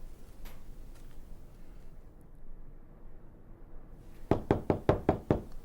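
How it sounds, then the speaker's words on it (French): A bird raps on a door in a quick series of about six sharp, close knocks that come in a burst at the end, after a long stretch of quiet room tone. "Quelqu'un frappe à la porte."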